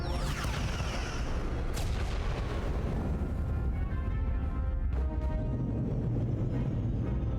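Starship weapons fire and explosions in the Star Trek: Resurgence game, a continuous loud rumbling roar with sharp blasts cutting through and a final burst of crackling debris.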